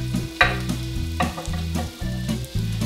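Onion frying in a pot at the start of a butternut squash and coconut milk soup: a steady sizzle broken by several scraping stirs, close and fairly loud, with no talking.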